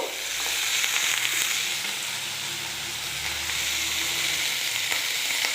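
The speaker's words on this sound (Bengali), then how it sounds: "একটু ভাজা ভাজা হয়ে গেছে এইবার এজ আমি দেখো এগুলো মিশাচ্ছি" Vegetables sizzle loudly in hot oil as they are stirred and mixed in a pan, a continuous close frying hiss with faint scraping of the stirring underneath.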